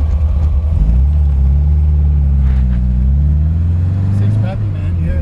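A 1971 MGB GT engine revs and pulls away, a loud steady low rumble rising in pitch as the car accelerates, with people talking over it.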